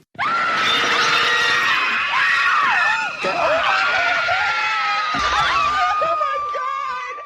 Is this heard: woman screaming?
yes